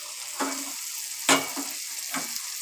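Crushed garlic drops into a pan already sizzling with onion and softened tomato, giving soft frying hiss with a few stirring scrapes.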